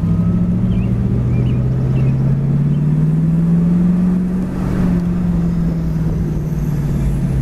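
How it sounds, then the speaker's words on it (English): A 1965 Ford convertible rolls along and drops down into first gear, its engine a steady low drone whose pitch dips and then climbs as the gear engages, loud and close with road noise and no talk. "Synchros are great, right down into first gear while we're still rolling."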